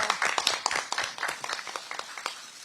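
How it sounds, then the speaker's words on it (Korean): Scattered audience clapping at a political party event in Busan, a thin, brisk patter of individual claps that fades gradually over a couple of seconds. "네, 다시 한번 더 큰 박수 부탁드리겠습니다."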